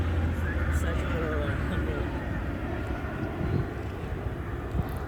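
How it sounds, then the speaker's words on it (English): A fixed-wing airplane passes overhead near Boston Logan Airport at a beach, a loud, steady engine drone throughout, with voices faintly underneath. "The plane's flying over because the Boston Logan Airport is very nearby."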